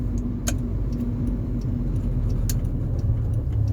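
A Rover 45 with a CVT gearbox drones along under acceleration, a steady mid-low engine hum with road rumble inside the cabin and a few faint clicks.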